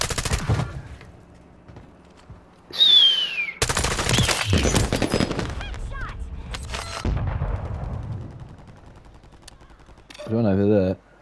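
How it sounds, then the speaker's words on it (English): Video game gunfire rings out in scattered sharp bursts and rapid volleys over several seconds, mixed with other game effects and a short tonal warble near the end. "I see gunfire."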